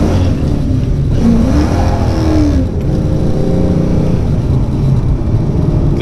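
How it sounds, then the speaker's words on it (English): A Ford Mustang Foxbody with a 5.0 small-block V8 and a Comp Cams XE266HR camshaft pulls hard from a stoplight, first to second under heavy throttle. Loud rising engine roar, a brief dip at the shift, then climbing again. "That was just first to second with a bunch of throttle."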